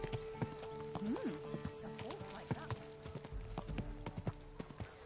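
A horse's hooves clip-clop at a walking pace in the medieval video game Kingdom Come Deliverance 2, with irregular steps, a brief whinny-like tone and a voice talking over them.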